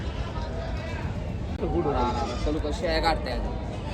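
Osmanabadi and local village goats bleat in a few wavering calls at a busy livestock market in Maharashtra, set against a steady crowd murmur and nearby voices.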